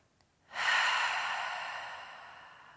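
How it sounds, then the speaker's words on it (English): A single deep breath released through the mouth, a loud, close, airy exhale that starts abruptly and fades slowly over about two seconds, alone without talk. "Take one more like that. Big, full, biggest breath of the day yet."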